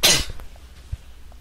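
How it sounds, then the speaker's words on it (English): A single sharp sneeze close to the microphone, a loud burst at the start that quickly fades into quiet room tone with a couple of faint knocks. "I'm just going to sneeze."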